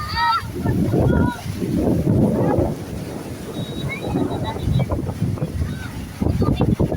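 Strong waves and a heavy current churn during a water rescue at sea. The surging water is mixed with buffeting wind on the microphone, and voices speak intermittently over it.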